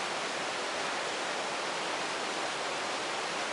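A stream flows close by in open country near a carved totem stone, giving a steady, even broadband rush of water that continues without a break and with no voices.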